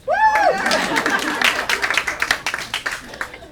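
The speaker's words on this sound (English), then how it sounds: "somebody can clap for that" A short vocal whoop, then scattered clapping from a small audience at a forest preserve ceremony, uneven and moderately loud, tapering off.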